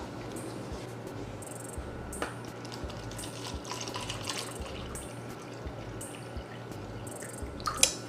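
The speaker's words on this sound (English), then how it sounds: "you're going to get your water, and you're going to put it and measure it to 8 ounces" Tap water poured into a cup and measured to 8 ounces for a latte, a steady close splashing trickle with small drips and no talking.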